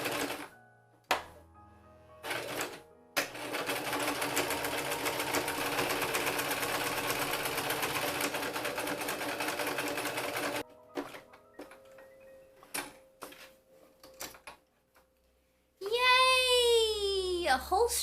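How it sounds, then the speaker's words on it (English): A sewing machine runs steadily for several seconds as it stitches a long fabric strip for a tote bag, a fast even whirring chatter, with shorter bursts of stitching before and after and a voice near the end. "So I'm just gonna sew this long ass strip for like 20 minutes."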